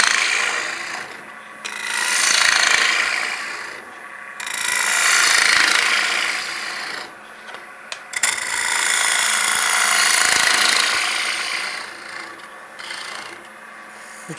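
A wooden bowl scraped on a lathe, a loud bright rasping hiss that comes in long sweeping passes with brief quieter gaps between them.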